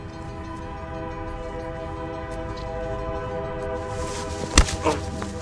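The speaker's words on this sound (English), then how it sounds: "we hear a train horn starting to go off in the background as well" A train horn sounds in the background, a sustained layered tone building over steady rail rumble, with a couple of sharp bursts near the end.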